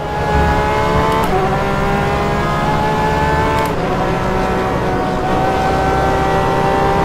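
Porsche 911 RSR GTE racing engine in rFactor 2 at Portimao, revving loud and continuous from start to end, its pitch climbing steadily and dropping sharply at two gear changes.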